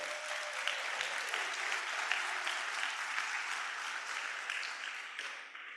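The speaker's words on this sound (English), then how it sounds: "Give yourselves a round of applause." Summit audience in a plenary hall claps in sustained, even applause, many hands together at a steady level that tapers slightly near the end.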